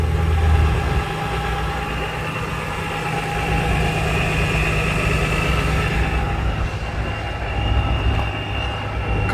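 A 2005 BMW M3 fitted with a Dinan Stage 3 supercharger and Dinan exhaust idles steadily, a loud, even engine drone with a low rumble that stays constant throughout, no voices.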